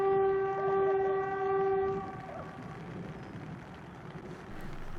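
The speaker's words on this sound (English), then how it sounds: "We see 4807 once again leading the train to Picton." A train horn sounds loud and sustained for a couple of seconds, followed by the low rumble of a train rolling past at a distance in New South Wales.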